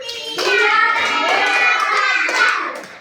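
Schoolchildren in a classroom clap together on their teacher's count, a loud burst of hands with children's voices chanting over it throughout, stopping after a few seconds.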